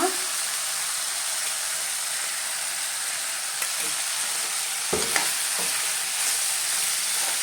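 Cluster beans frying in a pan with ground spice masala, a steady dense sizzle held for several seconds with a few scrapes of stirring near the end, close and constant, no voices.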